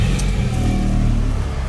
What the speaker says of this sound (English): Right, let's turn the car on.